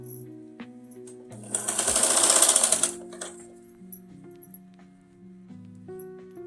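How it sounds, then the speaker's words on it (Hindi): A sewing machine runs a burst of stitches along the side edge of a fabric strip, a loud, steady whir rising for about a second and a half, with quieter mechanical clicks and hum before and after. "इसमें हम ऊपर से एक साइड किनारी के पास एक सिलाई लगाएंगे।"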